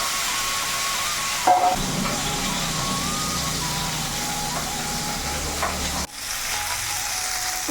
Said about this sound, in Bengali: ছয় পিস মাছ আছে একেবারে দিয়ে দেবো কড়াইয়ের মধ্যে